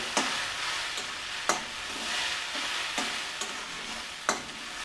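Steady frying sizzle fills the clip, broken by several sharp scraping knocks of a utensil stirring in the pan, with no talking.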